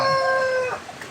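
A short, loud, close chicken call, a rooster-like crow that breaks off after a moment.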